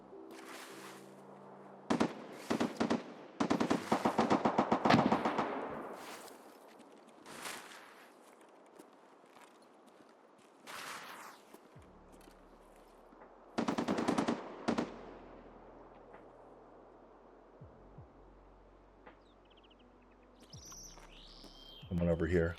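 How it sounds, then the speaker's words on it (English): Scav gunfire in the video game Escape from Tarkov near village or power, bursts of automatic fire and single shots echoing at a distance, loud then fading, with gaps, footsteps and some game sounds between. "the scavs at village or power are going to start shooting"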